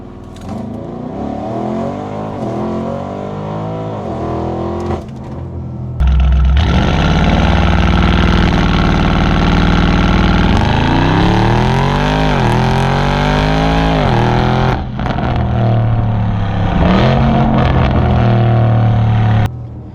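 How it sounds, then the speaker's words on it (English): A 2020 Audi RS Q8 launching under launch control: the engine idles and revs, then roars loudly through rising gear sweeps with shift breaks, close and intense with no talking. "let's do a quick launch control"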